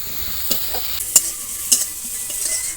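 Onions sizzle steadily in hot oil, with a few sharp scraping stirs of a spatula against the pan.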